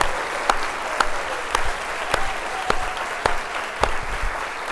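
An audience at a school convocation applauds daycare staff with steady, moderately close clapping, a few sharp individual claps popping out above the wash.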